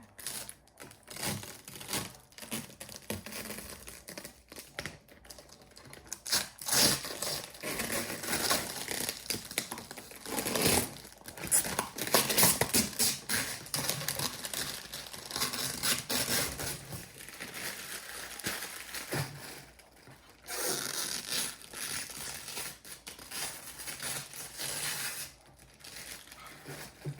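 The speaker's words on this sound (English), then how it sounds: "Taking out the plastic wrap." Plastic wrap crinkles and tears off a newly unboxed flower decoration in quiet, close bursts of rustling with brief pauses between, no speech.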